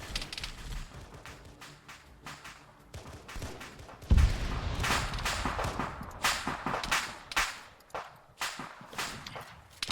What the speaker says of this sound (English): They're taking fire from the patrol right there.